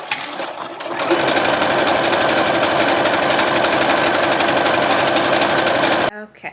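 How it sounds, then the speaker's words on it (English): A sewing machine runs a long, fast, even burst of stitching along a cardigan's sleeve and side seams, starting after a brief quieter moment and stopping abruptly near the end. The mechanical rattle is loud and close. "go ahead and sew both sides from wrist to butt"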